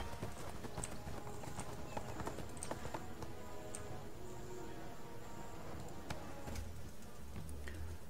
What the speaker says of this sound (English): Alright, get off the horse.